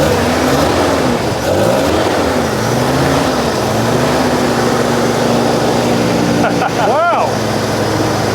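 A Mazda RX-7 rotary engine on an old barn-find car revs up loudly and close by, rising and falling through several pulls before the throttle is released, with people talking and exclaiming over the engine noise.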